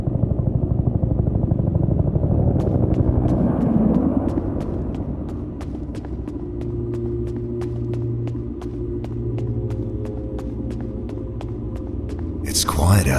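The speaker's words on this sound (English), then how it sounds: "Is that the evac chopper?" A deep video-game rescue helicopter rumble throbs in the distance as it approaches, with a steady rhythmic rotor ticking over a low hum before a sharp burst at the end.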